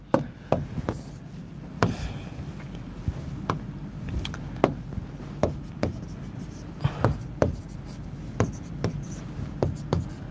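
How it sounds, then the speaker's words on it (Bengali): Writing on a board during a physics lecture: irregular, fairly close taps and short scratchy strokes recur every second or so over a quiet room hum. "দেখো সুন্দর মতো লিখি আমরা"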